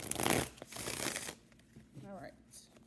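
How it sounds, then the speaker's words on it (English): A deck of tarot cards shuffled close up in a quick riffling burst, then softer card handling and sliding, with a voice speaking briefly beneath. "I'm just looking at cards in the camera through shuffling."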